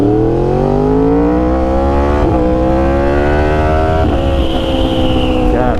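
A 2020 Yamaha R1 sportbike fitted with a new chain and sprockets accelerates hard, its engine note climbing steadily through the revs with brief dips at gear shifts, loud and close with wind rush throughout.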